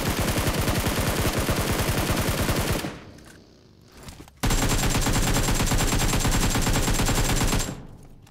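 Rapid automatic gunfire sprayed in PUBG Mobile hammers out in a long, dense, loud burst, breaks off for about a second, then resumes in a second sustained burst, with no voices over it.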